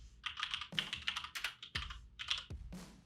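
Fingers tap quickly across a computer keyboard, a close, bright clatter of keystrokes in uneven bursts with a few heavier thumps like a spacebar or enter key, no voices.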